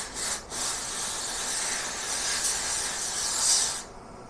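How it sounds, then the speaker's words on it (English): Nitrogen gas blown from a nozzle over a sample holder during pulsed laser deposition lab preparation, a loud, steady, close hiss lasting about four seconds with a brief break near the start before it cuts off. "we need to blow off with a nitrogen gas"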